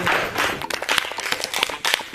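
A small group claps after a legal debate competition on a reality show, with brisk, uneven hand claps close by that stay steady for about two seconds.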